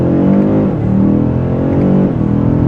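A BMW M5 CS launches hard with launch control, its loud engine roaring up close and climbing in pitch, with two brief dips as it shifts gears.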